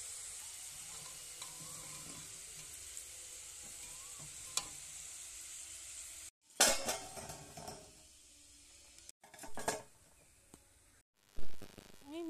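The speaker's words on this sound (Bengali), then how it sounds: "দেখো মিষ্টিগুলোকে হালকা মিডিয়াম আঁচে আমি ভেজে নেব।" Kalo jam sweets made from red potatoes fry in oil over medium heat, a steady soft sizzle that is later interrupted by a few stirring and utensil clatters, close and fairly quiet.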